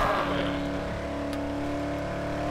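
Car engine droning steadily in the zombie game Dead Island, a continuous hum with sustained tonal bands, fairly loud and close, with no voices over it.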